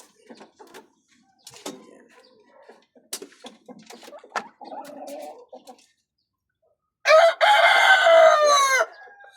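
Chickens kept in a small rooftop cage give sparse, soft clucks and short calls, then a rooster lets out one loud, long crow up close.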